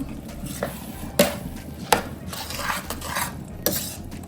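Ingredients for fish biryani sauté in a pan, a low sizzle under clattering utensils, with a few sharp metallic knocks and scrapes of a spoon against the pan.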